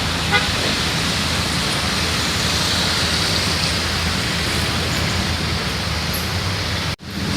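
Steady broadband hiss of rain and tires on a wet road inside a moving car in Manila, a continuous wash of noise with a brief thump near the end.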